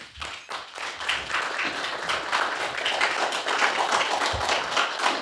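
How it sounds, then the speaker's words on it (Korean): A standing audience in a lecture hall gives a university professor big applause as he comes out to speak, with dense, continuous clapping that builds quickly and stays loud throughout. "다들 일어나서서 큰 박수로 맞이해 주십시오"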